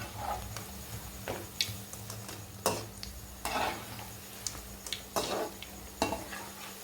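Bondas fry in hot oil as they are turned over in the pan, with a soft steady sizzle under intermittent scrapes and clinks of a utensil against the pan, close by and fairly quiet.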